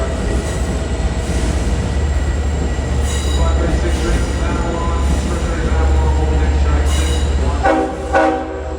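A Long Island Rail Road commuter train rumbles steadily through the busy Jamaica station as its horn sounds in a long sustained blare, with wheels grinding and a brief squeal near the end.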